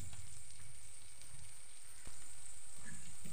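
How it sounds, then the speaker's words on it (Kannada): Cauliflower frying in oil over low to medium heat, a steady soft hiss of sizzling with faint crackles throughout, moderately quiet and close, with no voices. "ಚೆನ್ನಾಗಿ ಲೋ ಟು ಮೀಡಿಯಮ್ ಹೀಟಲ್ಲಿ ಇದನ್ನು ಹುರಿಯುವ ನಾವು."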